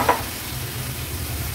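Shelled val beans go into a ground spice paste frying in oil, giving a steady low sizzle with a brief clink at the start.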